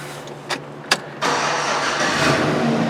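A 2008 Chevrolet 1500 pickup with its air bag light on cranks briefly after two short clicks, then its engine catches and settles into a steady, close idle for the rest of the moment.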